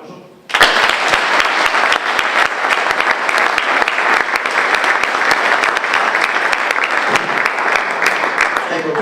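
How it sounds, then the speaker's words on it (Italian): Sustained applause from an audience at a military unit's Christmas greetings and annual review gathering, a steady dense clapping that starts abruptly and carries on loudly for several seconds. "Un applauso."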